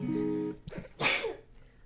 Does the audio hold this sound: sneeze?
yes